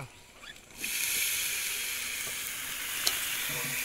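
Banana flower dropped into hot mustard oil with chilli and salt for a catla fish head curry, bursting into a loud, steady sizzle after a quiet start, with a brief stir clack near the end.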